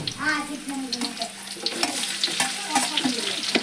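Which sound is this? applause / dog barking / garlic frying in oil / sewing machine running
garlic frying in oil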